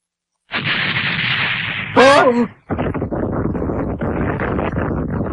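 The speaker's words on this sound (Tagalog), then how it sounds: "Mga paputok!" Rapid crackling bursts of firecrackers pop densely, loud and near, interrupted briefly by a shrill whistling rocket before the crackling resumes.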